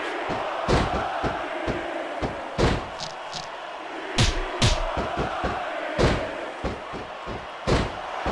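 In the WWE Smackdown vs RAW 2006 wrestling game, a steady crowd roar keeps going under repeated heavy slams and thuds from the ring, which land in an irregular rhythm and sound loud and close.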